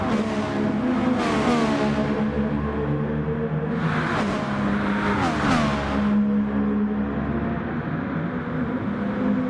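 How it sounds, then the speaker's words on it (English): A race car engine screaming around Suzuka Circuit in a racing video game, with sustained high revs, sharp gear-change dips and quick rises as the car accelerates, loud and close with no talk. "You see how fast the car is there with boost on."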